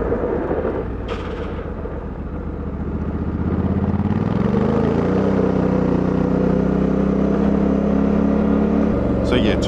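Honda Africa Twin DCT motorcycle engine under way on a ride, a steady loud drone with a pitch that shifts and climbs as it accelerates, continuous throughout with brief wind buffeting near the start and end.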